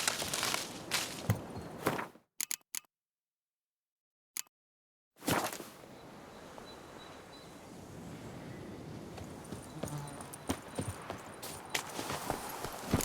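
Roach, Geralt's horse in The Witcher 3 video game, walking with steady clip-clop hoof steps on and off, broken by a few seconds of near silence before the hooves resume over a faint wind-like ambience.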